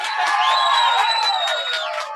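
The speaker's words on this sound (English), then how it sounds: "We need a little applause for that, I think" A crowd cheers and whoops with whistling calls over a bed of clapping, a loud, close burst of canned-sounding celebration that holds steady and then eases off at the end.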